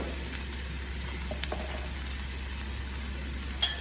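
Spices for potato raita sizzle gently in a pan over a low flame, a steady faint hiss with a couple of small clicks and a brief knock near the end.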